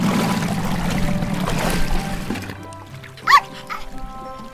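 A cartoon puppy yips a few short barks near the end, brief and fairly close, after a stretch of busy water and engine-like background noise.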